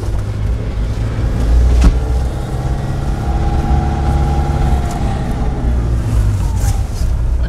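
Manual-transmission car engine during a driving lesson, a steady low drone with a rev rise and fall as gears shift, heard continuously and fairly close inside the car.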